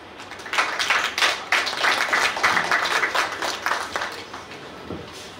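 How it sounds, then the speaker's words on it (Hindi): An audience claps after a poetry recitation at a live event, a dense, steady burst of applause that builds quickly and tapers off over about five seconds. "जोरदार तालियां प्रभाकर जी के लिए।"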